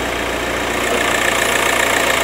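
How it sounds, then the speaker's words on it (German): A VW Passat engine idling with a defective dual-mass flywheel, a loud, close, steady mechanical drone carrying a rapid rhythmic knocking rattle, with no voices. "ich will jetzt auch direkt mal euch vorführen, wie es klingt mit einem defekten ZMS"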